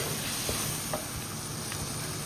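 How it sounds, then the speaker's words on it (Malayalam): Biryani masala with chopped coriander and mint leaves is stirred in a hot pan, a steady sizzle and hiss running underneath with a few soft scraping strokes of the spoon. "മല്ലിയില, പുതിനയില ചേർത്ത് മിക്സ് ചെയ്യാം."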